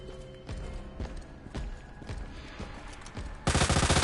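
The LE5 submachine gun fires in Resident Evil 2: separate sharp shots at an even pace, then a dense, loud stream of rapid automatic fire at the end, with no talking.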